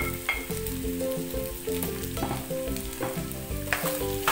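Sausage stir-frying with garlic and onion in a pan for a Korean sausage and vegetable dish, a close, steady sizzle with intermittent stirring scrapes, and music playing underneath.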